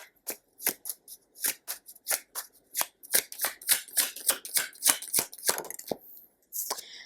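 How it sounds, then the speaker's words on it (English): Tarot cards being shuffled at close range, a rapid run of crisp riffling slaps and flicks that continues for several seconds in quick irregular bursts. "I want to pull out an advice card for you."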